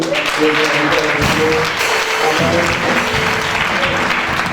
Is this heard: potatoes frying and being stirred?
no